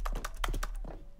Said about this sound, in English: I wonder why it sounds like typing whenever I press E.